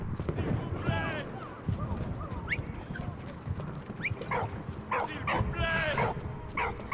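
Dog barks, yips and whimpers in the World War I trench game Valiant Hearts, recurring through a busy game soundscape with clopping and rumble beneath; a voice talks over parts of it.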